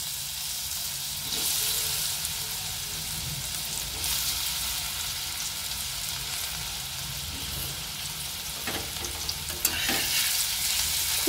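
Drained pieces of elephant foot yam fry in hot oil with a loud, constant sizzle that swells several times, while a spatula scrapes and stirs in the pan.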